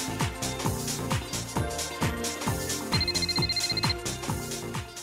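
A telephone rings in an animated costume-party scene, a brief trilling ring sitting over rhythmic background music with steady beats.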